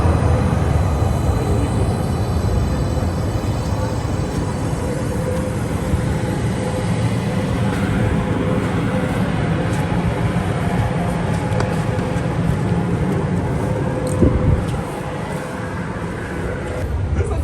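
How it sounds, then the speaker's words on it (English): Continuous low rumble inside a moving passenger train in Calgary, Canada, with rattling and rushing noise, steady throughout and a brief clatter near the end. "First time on the train in Canada."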